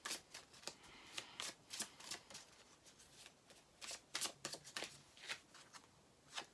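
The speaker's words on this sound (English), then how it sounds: "Shuffle a bit." A deck of tarot cards being shuffled by hand, a series of crisp riffling bursts and soft flicks repeating at an uneven rhythm, close and quiet, with no talking.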